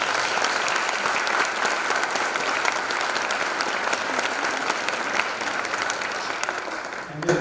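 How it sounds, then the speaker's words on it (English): Sustained applause from an audience at a university athletics awards gala, dense steady clapping throughout that fades slightly near the end. "Let's give them a round of applause."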